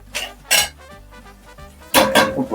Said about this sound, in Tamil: இப்போ வந்து நடுவுல நம்ம முட்டையை உடைச்சு ஊத்திக்கலாம்.